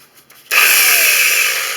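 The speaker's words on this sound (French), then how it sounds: "Et avec ça, on perce le carrelage, la faïence." A power drill bores into ceramic wall tile in drill mode, starting abruptly after a quiet moment and then running as a steady, loud, high-pitched whine with gritty grinding as the bit cuts a pilot hole.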